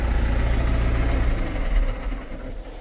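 Valtra BH154 tractor engine idling steadily nearby, a deep low rumble with a constant drone throughout and no voices.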